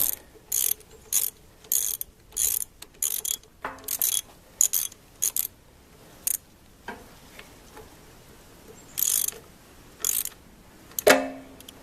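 Ratchet wrench tightening the carburetor and manifold bolts on a Farmall B tractor, a series of quick rasping clicking bursts with short pauses between strokes, close and crisp, with no talking.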